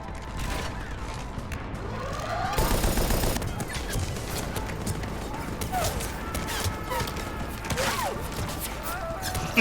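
Ship cannons in Mass Effect 3 fire in a rapid barrage, a dense volley of heavy booming shots that swells midway and then continues under mechanical game effects and a talking voice.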